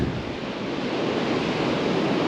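Waves of an incoming tide break and wash on a North Wales beach with a steady roar of surf, while easterly wind buffets the microphone throughout.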